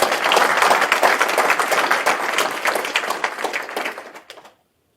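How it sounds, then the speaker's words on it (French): A crowd at a political conference applauds loudly with steady, dense clapping that holds for about four seconds, then fades quickly and ends in silence. "Je voudrais qu'on les applaudisse encore très fort."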